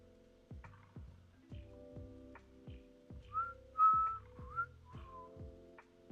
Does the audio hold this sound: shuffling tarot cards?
no